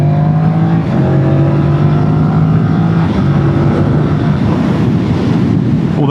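A Yamaha MT-07 naked motorcycle's parallel-twin engine pulls hard under acceleration, its loud steady drone rising in pitch through a gear change, heavy wind rush over the microphone throughout, with no talking.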